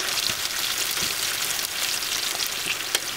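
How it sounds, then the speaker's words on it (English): Courgette slices fry in a pan with a steady, dense sizzle and occasional crackling pops, close up and continuous without any voices. "The courgette is quite fry, we start turning and we fry on the other side"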